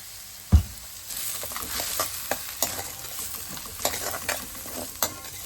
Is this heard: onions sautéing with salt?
yes